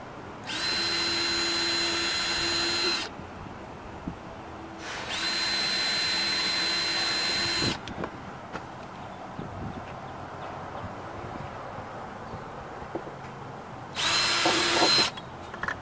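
A power drill with a small skinny bit runs in three bursts of a few seconds each, a steady high whine separated by quiet pauses, during a minivan closet build.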